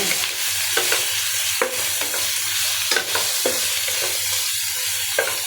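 Onions frying in a pan with a steady sizzle, while a spoon scrapes and stirs at irregular intervals, close and clear with no one talking.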